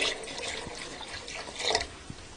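Water pours and splashes into a pot of fried chickpeas, a steady liquid gush that swells briefly toward the end, close and moderately loud with no talk.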